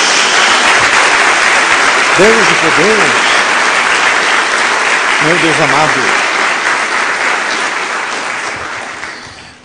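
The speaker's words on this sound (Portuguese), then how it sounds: "Dê uma salva de palmas a Jesus" A church congregation claps steadily in dense, loud applause that fills the whole stretch and fades near the end, while a preacher's voice speaks over it.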